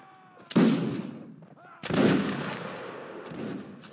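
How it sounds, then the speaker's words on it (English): Musket gunfire in a line battle video game as light infantry, with two loud volley bursts followed by rolling, crackling echoes and scattered further shots. "And hold on this hill and fire, Will."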